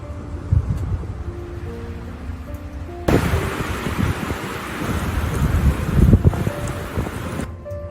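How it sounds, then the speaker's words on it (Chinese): Strong gale howling outside an underground wooden cabin, loud gusting wind noise surging and buffeting the microphone in waves, with no voices. "外面狂风呼啸"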